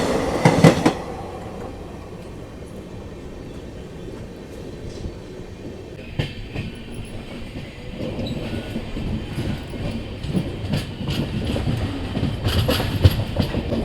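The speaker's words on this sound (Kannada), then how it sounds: "ನಮ್ಮ ಟ್ರೈನ್ದು ಫಸ್ಟ್ ಕ್ರಾಸಿಂಗ್ ನೋಡಿ. ಇದು ಹುಬ್ಳಿ ಎಕ್ಸ್ಪ್ರೆಸ್ಸು." Hubli Express passenger train rolling past at a crossing, a steady rumble with clickety-clack of wheels over rail joints, growing louder and busier toward the end, heard alone without talk.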